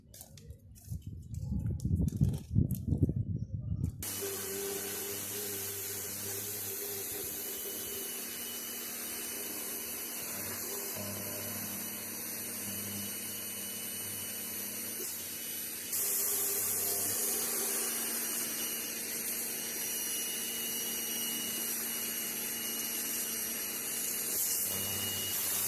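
A pressure hose sprays at close range while cleaning an EGR valve, a loud, continuous hiss that starts after a short rumbling opening and grows slightly harsher partway through, with no talk.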